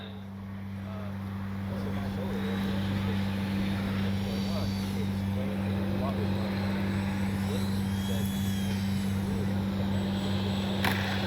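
A Bronco RC plane with landing flaps lowered flies overhead, its electric motor a steady droning whine that rises in the first seconds and holds, heard from a distance over a constant low hum.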